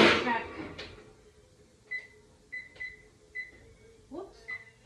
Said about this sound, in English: I'm going to preheat my oven to 350